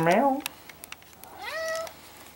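A cat gives two clear meows, a short one at the start and a longer rising-falling one near the end, fairly close, with quiet room noise and faint small sounds between.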